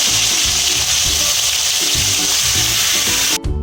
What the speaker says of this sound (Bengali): তেল গরম হয়ে গেছে এবার একটা একটা করে লেগুলো আমি দিয়ে দেবো একটু হালকা এটি করে ভেজে নেবো